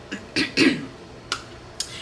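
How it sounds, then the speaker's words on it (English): Several short, breathy coughs in quick succession, then two fainter coughs after a pause, close and fairly quiet. "I had a little coughing attack."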